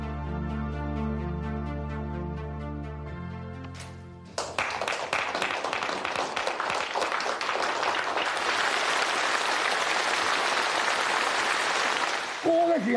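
Sustained applause for the premier's report rises after a few seconds of musical tones and continues as a dense, even clatter of many hands before fading at the end.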